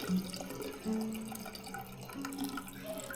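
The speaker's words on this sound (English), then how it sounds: "I'm going to turn on hot and cold water." Hot and cold water runs and splashes from faucets into a slop sink, a quiet, uneven trickle with faint drips, no speech.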